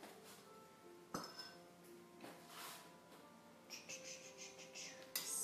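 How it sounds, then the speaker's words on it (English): A spoon stirring chicken chili in a full pot, giving faint scattered clinks and soft scraping against the metal, quiet and close, with one sharper knock. "Stir that up."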